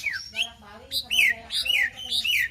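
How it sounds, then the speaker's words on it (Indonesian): Bali myna birds give a run of bright whistled calls and chirps, several repeated phrases in close succession, loud and clear at an outdoor family campsite. "Yang putih ini jalak Bali, Bu."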